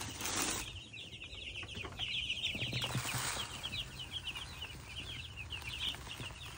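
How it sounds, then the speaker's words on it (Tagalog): Broiler chickens in a pen cluck and chirp in scattered bursts, soft and close, with occasional wing flaps and rustling over a faint background hum. "Dinig broiler. Alagang dinig din."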